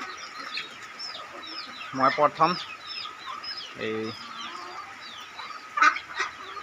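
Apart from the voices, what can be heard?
chickens and ducks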